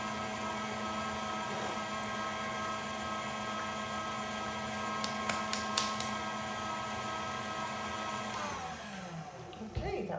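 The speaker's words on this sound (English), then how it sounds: "I'm gonna put that in my KitchenAid about on medium, just for a minute, just to get it mixed up" A KitchenAid stand mixer whirs steadily on medium speed, mixing graham crackers, butter and sugar, a continuous close motor hum that holds for most of the stretch before winding down near the end.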